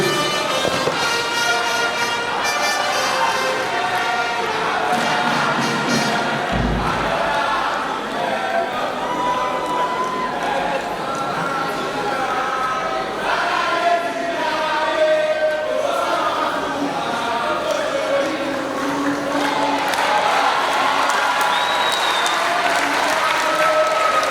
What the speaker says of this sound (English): We applaud you.